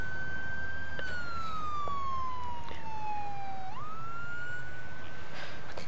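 A wailing ambulance siren from the video game Emergency 4 sweeps down in pitch, jumps back up and holds, loud and alone with no speech.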